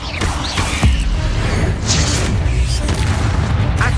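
A Confringo fire-blast spell erupts in the Hogwarts Legacy game, with a few sharp booming impacts and crackling hits in quick succession over a dense combat rumble.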